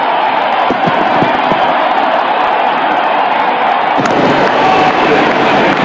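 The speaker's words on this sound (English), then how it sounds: "Crowd is going crazy." A cricket stadium crowd at an Oman versus India match cheers in a loud, dense, continuous roar, with a few sharp claps or bangs near the start and a brief thump partway through.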